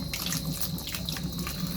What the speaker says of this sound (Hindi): पानी चालू हो गए